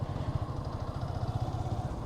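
A Yamaha FZ motorcycle rumbling along on a ride to the seashore, its low steady pulsing engine note continuous and moderately faint, with no voices over it.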